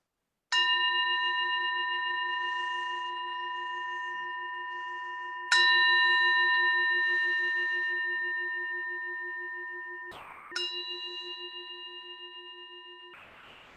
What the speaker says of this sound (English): settle into our breath for a short meditation with the sound of this bell.